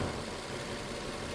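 A 2008 Nissan Altima engine with a lean bank 1 fault runs steadily at idle, a continuous low rumble with even broadband noise and no voices.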